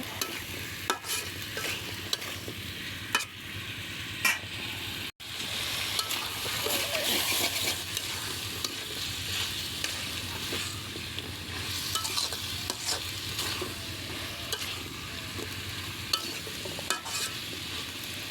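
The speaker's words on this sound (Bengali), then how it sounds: "এখানে সব ধরনের মশলা দিয়ে কষাচ্ছি।" Meat curry is stir-fried with a mix of spices on a clay stove, its steady close sizzle running throughout while the spoon keeps scraping and knocking through the pan.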